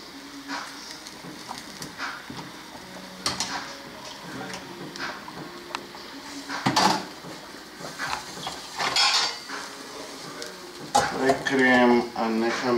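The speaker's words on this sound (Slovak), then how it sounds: "Prekriem a necháme variť." Sliced potatoes stirred in a pot of heated salted water, a spoon scraping and clinking against the pot in scattered strokes, with faint kitchen sizzling underneath, close and fairly quiet.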